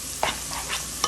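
Peppers sizzle in a hot pan as a utensil stirs them, three or four scraping strokes over a continuous close frying hiss, with no talking.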